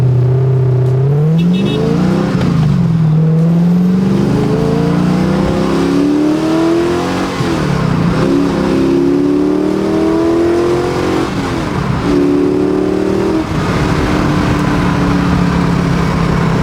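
A 2011 Factory 5 GTM accelerates hard, its engine note climbing loud and close through several rising pulls with brief dips at each gear change, droning steadily throughout.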